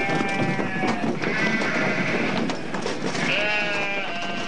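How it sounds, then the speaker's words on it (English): A flock of sheep bleats loudly and close by, with several overlapping calls sounding almost continuously over a farm background. "It's unlikely any of these sheep have seen a dog that looks like Herbie"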